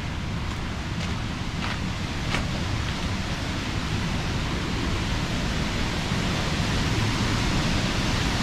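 A deep waterfall at the end of Twin Outlets Lake, a constant broadband rush of falling water that fills the whole stretch with no voices over it.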